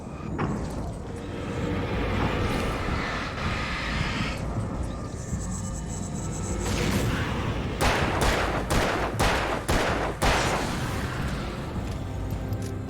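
Rapid bursts of gunfire from enemies in the Alan Wake video game, a dense game soundscape with repeated sharp shots clustering in the second half, loud and continuous with no talk.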